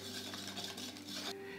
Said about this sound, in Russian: Тщательно экстракт вмешиваем.